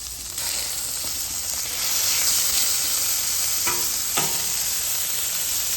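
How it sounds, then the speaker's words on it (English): A brioche bun frying in bacon grease from peppered bacon, a loud, steady hissing sizzle throughout with a couple of short utensil scrapes near the end. "I threw my brioche bun in the bacon grease over here"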